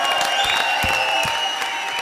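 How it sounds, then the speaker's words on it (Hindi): Steady applause from a stage comedy show audience, dense and continuous clapping with music-like tones underneath, fairly loud throughout. "जोरदार तालियों के साथ स्वागत कीजिए"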